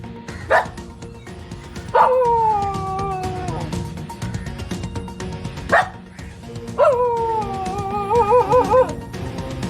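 Several street dogs bark and yelp in short bursts, with a few drawn-out whining howls, fairly close and loud against a noisy outdoor background, as a python swallows a street dog in Pathanamthitta.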